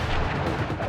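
A loud, dense burst of booming, crackling explosion from a firework attack in the video game Sly Cooper and the Thievius Raccoonus, filling the whole short moment without pause.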